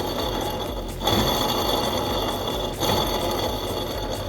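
A worn car air-conditioner clutch bearing spins with a steady, loud whining drone and a dense mechanical whir, close up and continuous, with two brief dips; no one speaks.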